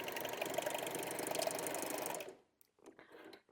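A sewing machine runs a zigzag or stretch stitch along a T-shirt seam, a steady close whir for about two seconds before stopping, followed by quieter handling noises.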